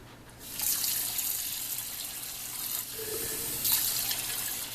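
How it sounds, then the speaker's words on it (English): Water runs from a kitchen tap, a steady close hiss swelling in two brief surges as a little water is added to leftover food, with no talking. "I just want to add a little water to it."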